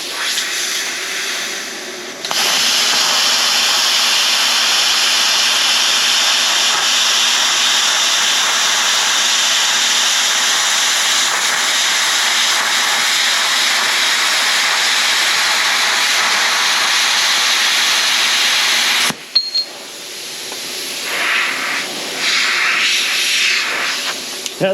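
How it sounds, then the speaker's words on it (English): A Simder SD4050PRO plasma cutter slices through a freshly MIG-welded metal piece, a loud, steady, close hiss lasting about seventeen seconds that starts and stops abruptly, followed by quieter handling noise and voices. "The thing I just MIG'd together, let's just cut it apart"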